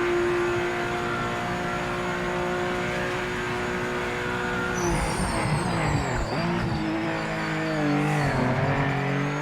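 In the racing game Project Motor Racing, a race car engine drones at a steady pitch, then revs and drops through gear changes with rising and falling whines and a brief tire squeal, loud and continuous.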